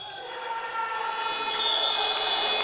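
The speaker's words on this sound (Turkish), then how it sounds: "İlk yarı bitiren siren sesini duyduk ama bir şut hakkı var." An arena siren sounds at the end of the first half of a men's Super League handball match between Beşiktaş Safi Çimento and Sakarya, a sustained loud tonal blare over crowd noise lasting the whole moment.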